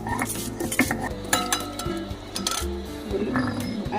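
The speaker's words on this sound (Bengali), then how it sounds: "ওই সাথে একটু পাকা লঙ্কা বেটে দিচ্ছি" Ripe chilli being ground into paste on a grinding stone, with repeated rough scraping and knocking strokes of stone on stone in an uneven rhythm, close and fairly loud.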